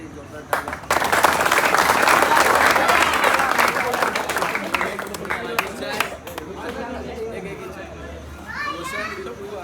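A crowd at a Govinda troupe's Dahi Handi practice in Gadab village, Pen, claps and cheers loudly, with children's voices mixed in. The burst swells early, holds for several seconds, then thins into scattered chatter.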